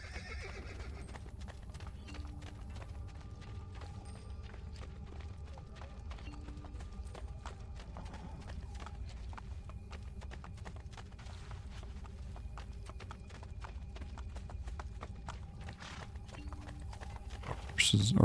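Hooves clop rapidly and continuously as horses gallop in the video game Assassin's Creed Brotherhood, a steady rhythmic patter with occasional whinnies and someone talking throughout.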